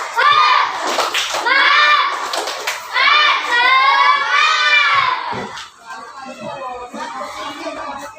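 A school class does a rhythmic spirit clap, with children chanting loudly in unison and punctuating the chant with sharp clap bursts before the voices trail off more quietly.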